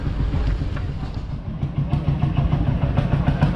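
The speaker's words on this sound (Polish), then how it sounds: "ale słychać już traktory" An old tractor engine runs at a vintage tractor rally in Wilkowice, a steady, rough low rumble with clattering texture that holds fairly close and loud throughout, without talk.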